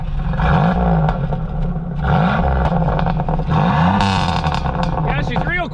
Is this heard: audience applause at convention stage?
no